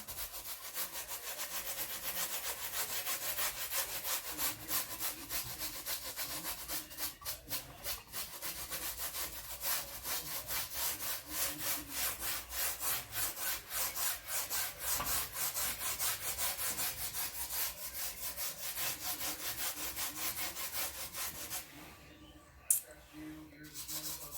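A paintbrush scrubs paint onto canvas in quick, rhythmic back-and-forth strokes, a dry rasping scratch that runs steadily and close for over twenty seconds.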